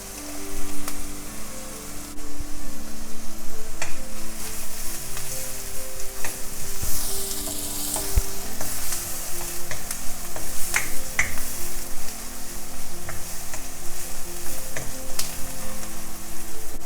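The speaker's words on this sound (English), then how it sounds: "I'm going to add the garlic, chopped garlic to it." Chopped garlic and onion fry in a pan for spinach fried rice, with a steady, close sizzle running unbroken throughout and occasional faint clicks of utensils, no talking.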